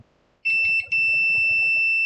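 A multimeter's steady high continuity beep, testing an Acer E5-575G laptop motherboard, comes on abruptly and holds, with a brief dip, over faint low clicking and handling noise.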